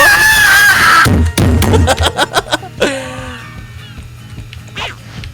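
A chicken in a kart racing game gives loud, squawking clucks and honk-like cries, with a string of short choppy bursts and a final squawk, and people are heard reacting alongside.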